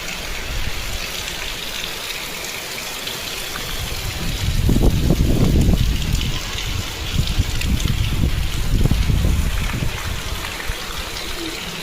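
Water runs steadily from an outlet at a temple, a continuous trickling rush that swells louder from about the midpoint and stays fairly near, with no voices.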